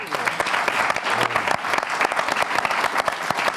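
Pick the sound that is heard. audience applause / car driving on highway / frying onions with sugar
audience applause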